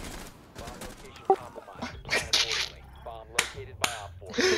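Video game gunfire, sharp scattered shots cracking out at irregular intervals under lively talk among players.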